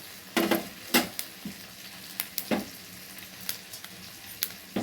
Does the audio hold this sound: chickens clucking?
no